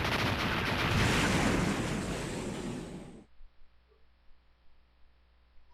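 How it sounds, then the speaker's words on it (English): Huge roaring blast from an explosion in the video game Mega Man X6, a dense rumbling wash lasting about three seconds before cutting off abruptly, followed by faint scattered game noises. "It exploded!"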